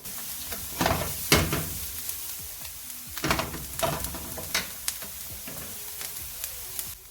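Garlic being stirred into spinach pie filling in a pan, with a soft sizzle under repeated scraping and clattering strokes of a utensil coming in irregular bursts, close and moderately loud, no talking.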